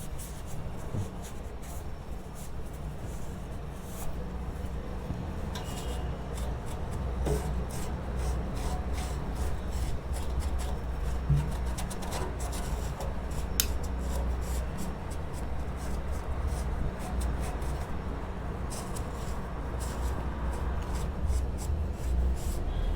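Close, steady rubbing and scrubbing as a motorcycle fuel pump clamp on a Honda H'ness CB 350 is cleaned, a continuous dry scraping texture with occasional light ticks, no talk.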